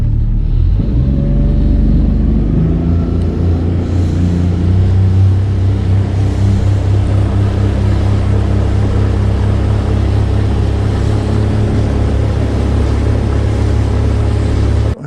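A motorboat engine rumbles loud and close with a continuous low drone, holding steady and alone for the whole stretch, with no voices over it.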